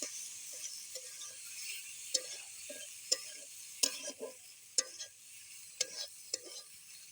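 Pasta being stirred through sauce in a pan makes soft, irregular scraping and clacking of a spoon against the pan, a dozen or so distinct knocks over a faint sizzle, close and fairly quiet, with no talk.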